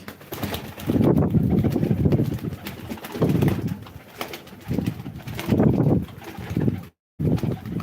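Pigeons at a live pigeon auction coo in repeated low, throaty bursts, close by, with rustling between calls.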